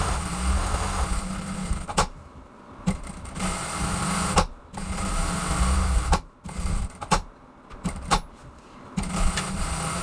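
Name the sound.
sewing machine stitching a straight seam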